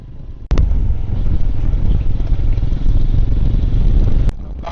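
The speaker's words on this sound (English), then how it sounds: "Now Siva is riding" A motorcycle being ridden on a road en route to waterfalls gives a steady, loud engine and wind roar up close, with brief clatter at the start and end and no talk.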